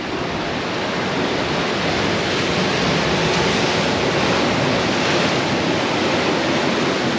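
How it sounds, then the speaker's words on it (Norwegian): Sea waves and wind batter a sailing boat off La Gomera, making a loud, dense, continuous rush of surf and gusting air that fills the whole stretch without any voices. "vi er utsatt for bølger og sjø og vind"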